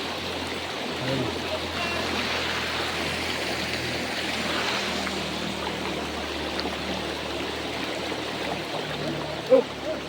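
A river flowing during a crossing, with a steady, fairly quiet rush of water that runs throughout, plus a brief knock near the end.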